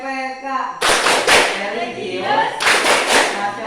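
A class of students performs the rhythmic Tepuk PPK clap in two loud bursts of quick, patterned claps, with voices chanting along before and between the claps.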